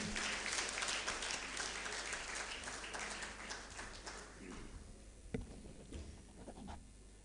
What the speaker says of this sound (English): with a big round of applause for him